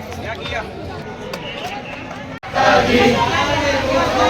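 Dense crowd babble fills a temple darshan queue on a family pilgrimage visit to Jejuri, Tuljapur and Ekvira Aai, a steady murmur of many voices and shuffling that briefly drops out, then returns slightly louder and busier.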